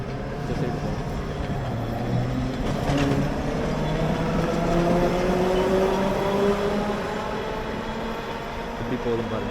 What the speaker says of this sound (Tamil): இந்த ஒரு ட்ராமு வந்துருச்சு பாருங்கள். இது ஆப்போசிட்டில் போகிற ட்ராமு.